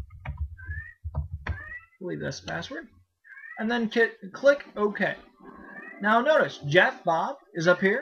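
A pet cat meows several times in short, clear calls near the microphone, after which someone talks steadily about setting up Ventrilo voice chat software.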